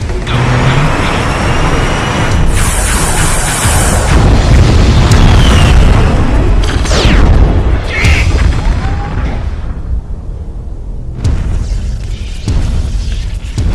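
Heavy weapons fire and explosions from battling giant robot mechs in MechWarrior, a loud run of booming blasts and rumbling impacts with some voices mixed in, fading toward a quieter stretch before another burst.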